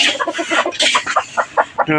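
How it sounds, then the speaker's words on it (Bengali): Naked neck chickens cluck in a rapid, close series of short calls, a few overlapping birds in a backyard poultry setting, with no talking. "গলা ছিলাম মুরগি দেখতেই পাচ্ছেন গলা ছিলাম মুরগি"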